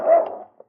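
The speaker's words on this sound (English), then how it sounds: "the big dog leaped toward him, growling and nipping" A big dog in a 1952 radio drama lets out a single short, loud bark with a rough, growling edge, heard alone and close.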